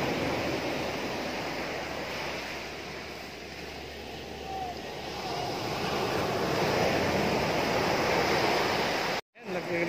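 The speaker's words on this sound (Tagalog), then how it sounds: "Laki ng alon." Big ocean waves break on the beach at Punta Fuego in a continuous, fairly distant roar of surf with wind, swelling in the second half before a brief dropout.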